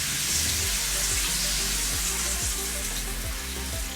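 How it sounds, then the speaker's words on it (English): Gravy for chicken adobo hits already-hot oil in a pan, setting off a loud, steady sizzle and frying hiss that runs unbroken throughout with a low rumble beneath, and no one speaks. "you're gonna pour the gravy into the oil"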